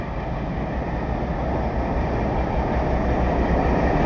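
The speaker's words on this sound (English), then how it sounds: "I think we've got a train coming" Heritage diesel locomotive D1062, a 108-ton Class 52 Western named Western Courier, rumbles in on a preserved railway as a steady, dense, loud roar that holds without pause and swells slightly as it draws nearer.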